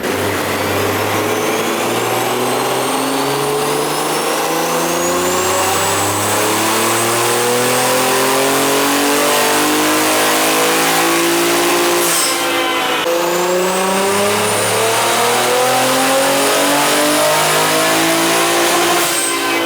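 A tuned car with a new fuel pump revs hard on a dyno, engine pitch climbing steadily in two long sweeps with a short break between them. The sound is loud and close, and no one speaks.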